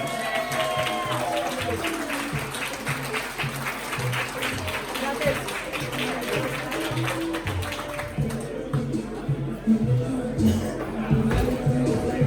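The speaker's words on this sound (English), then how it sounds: "give a round of applause for Redneck Cole" A comedy open mic crowd claps steadily for an incoming comedian, a sustained wash of applause mixed with chatter and whoops that fades after about eight seconds as talk takes over.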